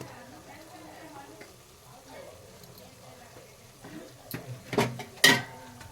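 Spices for chicken biryani frying and stirred in a pan, soft scraping and low sizzle building to a couple of louder clatters near the end.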